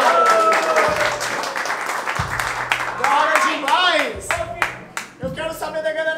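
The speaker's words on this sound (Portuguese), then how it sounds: "Palmas pra essa batalha, família!" At a rap battle, an audience bursts into applause and cheering after a round ends, loud and close, with crowd voices and shouts mixed through the clapping.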